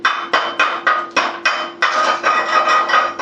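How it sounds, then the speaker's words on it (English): A chipping hammer knocks welding slag off a fresh weld bead in about ten sharp, close metallic strikes, steady and evenly spaced. "got a wee chip and hammer here"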